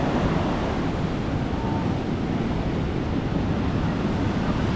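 Ocean waves break on a beach at Nusa Penida, mixed with steady wind buffeting the microphone. The result is a constant, loud roar of surf and wind with no clear breaks.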